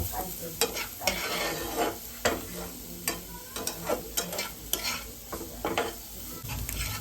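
Chicken roll filling fries in a pan while a spatula stirs it, a constant loud sizzle broken by repeated scraping strokes and clicks at an irregular rhythm, with no voices.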